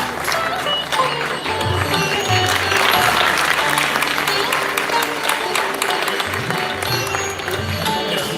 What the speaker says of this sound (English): I think they deserve a louder greater applause, guys